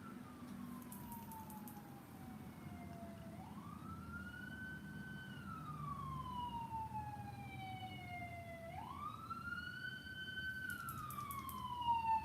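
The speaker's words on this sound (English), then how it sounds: "You hear them sirens?" Wailing emergency vehicle sirens sweep up and down in long rising and falling tones, growing slightly louder as they approach over a steady low traffic rumble, with a brief burst of higher siren tone near the start and end.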